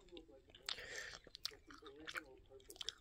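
Crunchy Burger King chicken nuggets chewed close up, with irregular crisp bites and soft mouth sounds amid quiet murmured speech.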